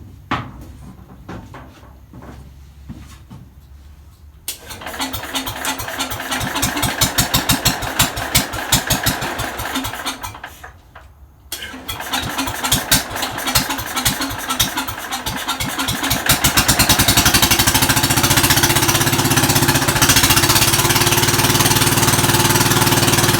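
A Jacobsen mower engine cranks with rapid clattering turnover, stalls briefly, then catches and runs, settling into a loud, steady, close-up drone with no throttle control hooked up.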